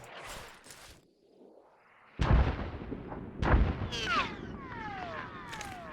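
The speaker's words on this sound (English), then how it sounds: "Dang mortar." Mortar shells explode in the video game Arma 3 Antistasi, two heavy booming blasts a little over a second apart, followed by whistling debris and a lingering rumble.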